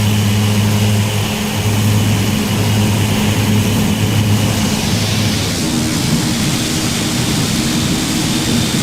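Cabin noise of a Carenado ATR 42-500 turboprop in the Prepar3D flight simulator: a loud, steady roar with a low propeller drone and hum that continues unbroken the whole time.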